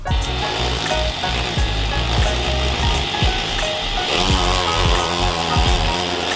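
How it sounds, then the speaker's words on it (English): A Dremel spinning a polishing rag loaded with green rouge against a silver Morgan dollar coin ring, a steady close whirring drone with rough rubbing and faint ticking from the rag, loud and continuous. "I have a little bit of green rouge on a polishing rag I put in a Dremel"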